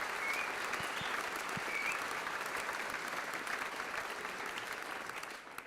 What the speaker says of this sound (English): round of applause to everyone today.